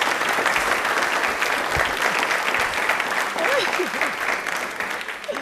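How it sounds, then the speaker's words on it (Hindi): Loud, continuous audience applause in a TV studio during a Rajasthan quiz programme, dense clapping throughout, with a voice faintly audible underneath near the end. "एक बार जोरदार तालियां हो जाएं इनके लिए"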